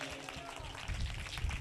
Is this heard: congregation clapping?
yes